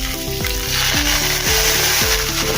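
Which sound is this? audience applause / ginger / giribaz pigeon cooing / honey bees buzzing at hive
ginger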